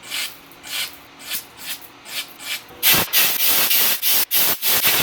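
A brush scrubs out the center oil hole of new engine push rods in quick rhythmic strokes, soft and spaced at first, then harder, louder and faster rasping for the last couple of seconds.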